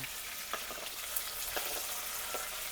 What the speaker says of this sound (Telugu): అదిగో ఎండు చేపలతో పాటు మా అమ్మ వెల్లుల్లి రెబ్బలు కూడా వేసేసింది.